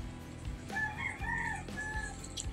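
A single rooster crows once, a drawn-out rising and falling call, moderately faint as if from a short distance.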